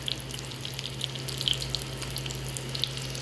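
Chicken vegetable kebabs fry in a pan with a steady close sizzle dotted with sharp oil crackles and pops, with no voices.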